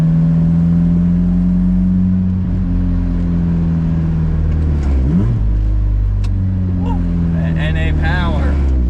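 A 170-horsepower Mazda Miata NA engine runs with a steady, deep droning hum that swells briefly partway through, with voices talking over it.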